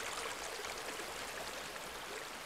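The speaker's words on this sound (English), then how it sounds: "ending up with this steady flow of this river" A river with a steady flow in a restored ecosystem, fed by rain soaking into the vegetated ground, gives a continuous, even rush of water, fairly faint and with no voices.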